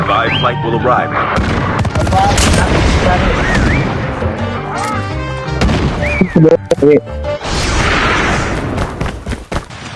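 Gunfire in the Call of Duty video game, a dense barrage of loud, sharp shots and booms in rapid clusters, with players talking excitedly over the shooting throughout.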